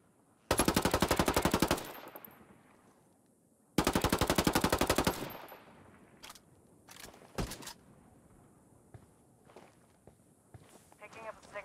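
Machine gun bursts in Ghost Recon Wildlands, two long rapid loud volleys in close succession, then scattered single shots, footsteps and quieter background activity.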